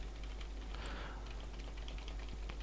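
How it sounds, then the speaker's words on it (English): Rapid, steady key strikes on a computer keyboard during a Cataclysm: DDA game session, a dense run of close clicks and clacks, no voices. "Just hammering my keyboard"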